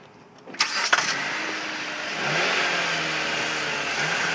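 A 2010 Dodge Avenger's 2.4 liter dual VVT four-cylinder is started with a couple of clicks and a catch, then settles into a steady, fairly quiet idle close by, with no talking.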